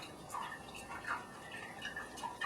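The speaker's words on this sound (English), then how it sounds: "Pour my water slowly so I can build up some good froth." Water poured slowly into a matcha tea bowl, a soft continuous trickle with faint dripping splashes close by and no talking.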